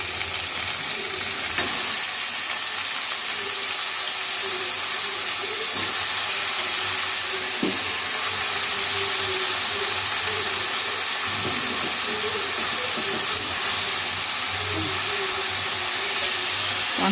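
Brinjal pieces frying in a pan for a dried-fish curry, a steady close sizzle and hiss running unbroken throughout with occasional stirring scrapes and no talk.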